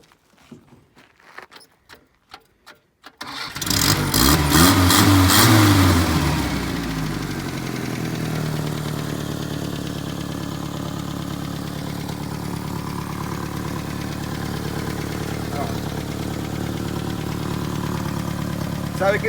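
Engine of a 1978 Datsun 1500 ute starting after a series of cranking clicks, catching with a loud surge and settling into a steady, close idle.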